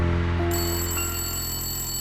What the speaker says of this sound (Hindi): नो, फोन मत उठाना।